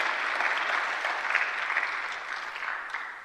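Church congregation clapping during a Korean Christmas Sunday service, a fairly faint but steady crowd of hands applauding for about three seconds, slightly fading at the end.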